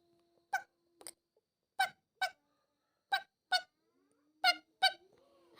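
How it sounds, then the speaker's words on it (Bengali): A duckling's short, squeaky honking calls come in four quick pairs separated by brief silences. They are fairly close and clear over a near-silent background, with no speech. "এখানে তো আমি একটা হাঁসের ছানার আওয়াজ পাচ্ছি"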